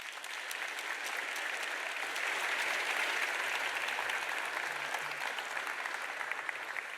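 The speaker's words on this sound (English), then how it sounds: "we need an extra round of applause" A conference crowd gives sustained applause as two speakers are welcomed to the stage, a thick, even wash of clapping that holds steady for several seconds.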